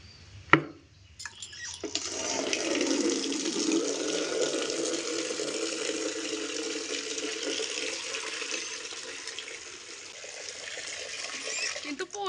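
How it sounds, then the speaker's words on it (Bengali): Tap water gushing steadily into a bucket, a close, continuous rushing splash that starts after a brief clink and holds at an even level for about ten seconds. "এখানে বালতিতে করে জল নিয়ে যাব"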